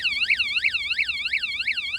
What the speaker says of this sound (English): These are bike alarms for bicycles, like motion alarms.